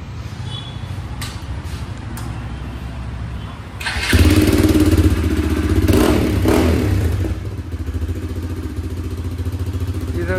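Hero Xpulse BS6 motorcycle fitted with an Akrapovic full-system exhaust starts after some faint clatter, then idles loud and close with a deep rumble that rises and falls through a few revs.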